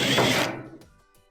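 A quick mechanical ratcheting whir as a 1/4-inch screw is backed out of a dryer front panel, loud at first and then fading into a few faint clicks.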